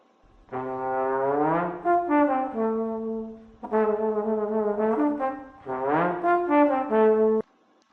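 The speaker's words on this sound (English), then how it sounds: "So that is the trombone. It has a very unique sound because of the way that it can slide between the notes." A trombone plays three phrases of sliding notes, pitch gliding smoothly between tones, clear and solo with short pauses between.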